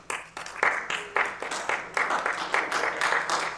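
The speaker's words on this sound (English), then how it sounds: "Applause for bag number 1." An audience applauds at a magic show, a steady run of many hands clapping that carries on without a break at moderate volume.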